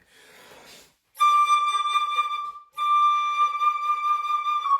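A breath, then two loud sustained flute tones with a pushed, wavering vibrato, separated by a brief pause.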